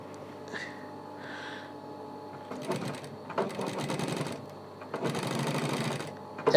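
A sewing machine stitches a jewelry bag in two loud, rapid runs with a pause between them, after a quieter stretch of light handling at the start.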